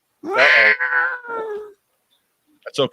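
A cat lets out a long, wavering, plaintive cry that lasts over a second, with a short speaking voice after a pause.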